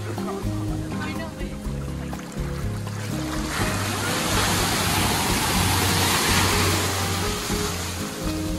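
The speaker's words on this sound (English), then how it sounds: "Lots of good waves out here" Ocean waves breaking on a beach in Mexico, a loud broad rushing wash that swells and builds through the second half, with people talking over it near the start.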